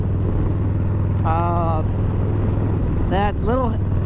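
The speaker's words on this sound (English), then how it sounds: "There's a lot of backfire." A motorcycle with an aftermarket fuel tune rumbles steadily while riding, giving a few sharp backfire pops amid the engine drone and wind, with bird chirps faintly above.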